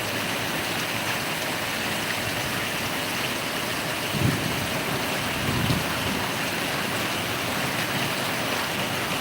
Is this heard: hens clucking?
no